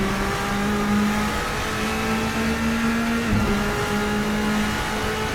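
A Bentley Speed 8 racer's engine from the sim Assetto Corsa, droning loud and close at a steady pitch, rising slightly, then dropping abruptly around a gear change before settling back into the same hum.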